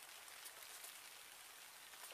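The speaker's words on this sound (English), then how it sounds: "it's just started raining" Steady rain patters down at a carp fishing spot by the water, an even, continuous hiss of drops across the whole clip with no voices.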